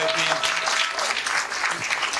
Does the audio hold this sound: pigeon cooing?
no